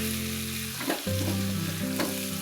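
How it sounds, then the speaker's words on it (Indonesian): Purple eggplant fries in a pan with green chili sambal. There is a continuous loud sizzle, broken by a couple of brief stirring scrapes, and no talking. "Lanjut, kita masak terong ungu bersama sambal hijau."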